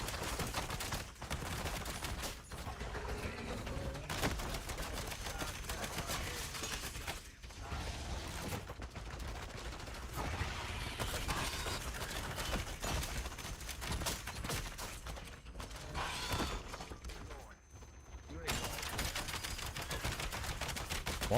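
Sustained rapid gunfire from shooting in a Destiny-style endgame video game, dense bursts and fusillades running nearly continuously and loud throughout, with mechanical clicks and brief lulls between volleys.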